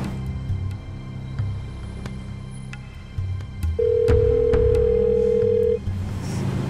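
Unanswered phone call: one long, steady ring tone of about two seconds sounds over background noise and low rumble.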